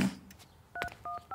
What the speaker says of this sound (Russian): Я врачу позвоню.